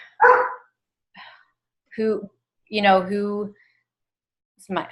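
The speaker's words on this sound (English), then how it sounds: "Sorry, he's going to keep barking." A dog barks several times in short separate bursts, fairly close, with quiet gaps between the barks.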